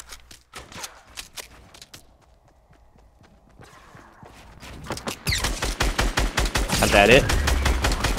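Gunfire from the Fortnite console game bursts out in rapid, loud volleys that grow denser toward the end, mixed with a voice talking over the action.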